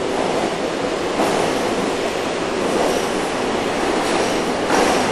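A subway train running, a loud continuous broadband rumble and rushing roar with slight swells, steady throughout with no voices.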